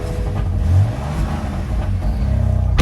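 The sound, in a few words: 2019 BMW M4 exhaust revving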